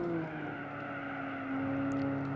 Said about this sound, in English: roof cam has a turbo noise as well